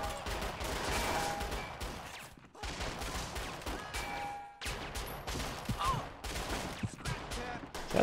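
Dense, continuous gunfire in Perfect Dark Zero's subway mission, with sustained automatic bursts broken by brief pauses, loud and busy throughout.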